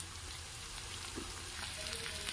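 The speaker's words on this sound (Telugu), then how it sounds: "ఇవన్నీ కూడా కలిసేటట్టు మంచిగా ఫ్రై చేసుకుంటాము" Ginger garlic paste with turmeric and chili powder frying in a pan for chicken liver curry, a steady close sizzle with faint scraping stirs throughout, no voices.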